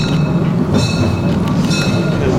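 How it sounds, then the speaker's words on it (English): A steam train rolls along rails on the Molybahn, a steady loud rumble with rhythmic clanking and faint high squeals from the wheels, no talking over it. "Steam train."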